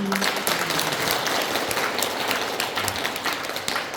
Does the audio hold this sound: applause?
yes